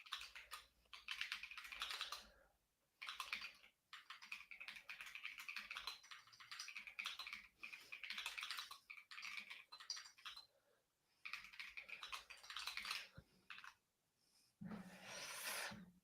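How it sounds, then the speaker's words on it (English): Rapid keyboard typing, bursts of clicking keys broken by brief pauses, fairly quiet and close, with no talking. "There are still people typing."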